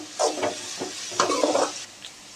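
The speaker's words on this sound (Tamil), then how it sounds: "பெரிய வெங்காயம் வந்துட்டு ஒரு ரெண்டு நிமிஷம் நல்லா வதங்கட்டும்" Large onions sautéing in a pan, two short bursts of scraping and stirring over a faint sizzle, heard up close.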